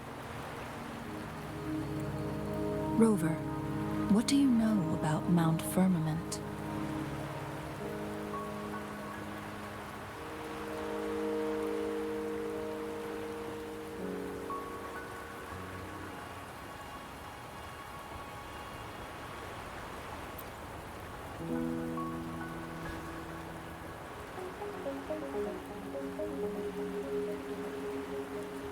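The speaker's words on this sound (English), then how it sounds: "Don't worry, the rain won't last much longer." Steady rain falls in the video game Wuthering Waves, a continuous soft patter that runs the whole way under tonal game music and a short spoken line.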